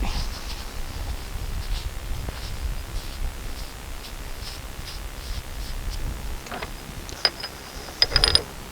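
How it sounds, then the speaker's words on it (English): A nut being turned onto the leaking bucket cylinder of a Komatsu D31 dozer makes close, quiet metallic ratcheting clicks in a steady rhythm, ending in a short burst of louder clinks. "Turn the nut on."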